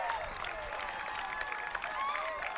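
Home crowd at a high school lacrosse game between Exeter and Portsmouth cheers and applauds a goal, a sustained wash of clapping and shouting with whistles and voices rising out of the roar.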